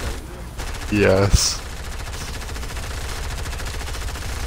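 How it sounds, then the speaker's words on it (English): Video game gunfire rattles as rapid continuous shots at cardboard cutouts, loud and steady after a brief spoken word. "We're going through and individually shooting every cardboard cutout."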